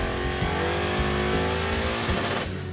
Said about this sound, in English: That was wide open throttle and it didn't shift till I lifted